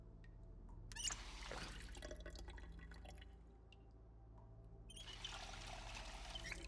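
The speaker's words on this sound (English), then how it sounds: "since I hear the drip drip of the water" Water trickling and dripping in the Project Zomboid game, a faint liquid pouring sound with brief splashy bursts at the start and again toward the end, heard alone.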